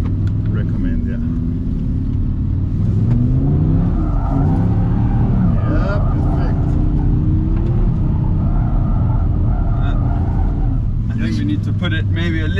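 A 2023 Audi R8 GT with a V10 engine pulls hard in second gear during drift practice, its loud rising engine note filling the cabin while people talk over it.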